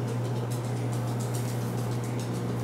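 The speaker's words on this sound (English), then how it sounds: "90 seconds in the microwave on high" A microwave oven running on high while cooking corn on the cob, giving a steady, loud electrical hum with an even droning tone throughout and no talking.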